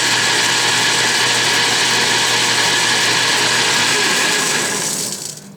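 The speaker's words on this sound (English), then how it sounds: "I just faced off the shoulder, and that was my last pass" A South Bend lathe facing off a shoulder on a milling arbor, a loud steady machine whine with cutting noise running continuously, then easing off as the pass ends.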